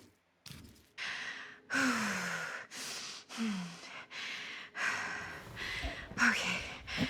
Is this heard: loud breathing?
yes